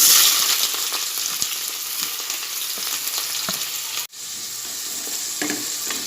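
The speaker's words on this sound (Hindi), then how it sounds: "अब मैं इसमें कटी हुई प्याज डालूँगी।" Loud sizzling of onions hitting hot oil, a continuous crackle with scattered pops and a brief dip partway through, no voices.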